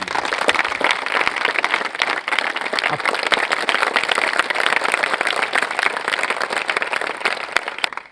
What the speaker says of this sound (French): Encore une fois, vous pouvez applaudir.